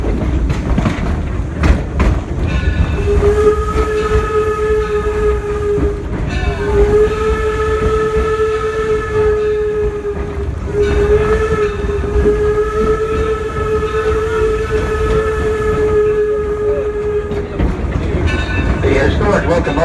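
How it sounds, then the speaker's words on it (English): Number 3 Torch Lake, a historic steam locomotive, pulls a passenger train. It gives long sustained whistle blasts over a steady rumble and clatter of the rolling cars, heard loud and close from on board, with speech in places. "The historic locomotive pulling us today is the number 3 Torch Lake. It is the oldest steam locomotive operating in the United States."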